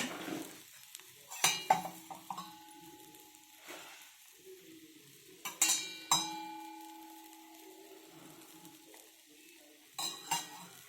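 A bread omelette fries in a little oil on a pan, a quiet background sizzle punctuated by a few sharp metallic clinks and scrapes of a spatula against the pan, close and without talk.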